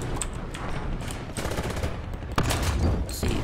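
Dense, continuous gunfire in the War Thunder video game, rapid automatic bursts overlapping with heavier booming shots, loud and unbroken throughout with no talk.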